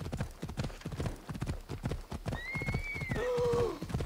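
Horse hooves clip-clop in a quick, steady rhythm in Assassin's Creed Odyssey, close and clear, with a horse neighing near the end over the footfalls.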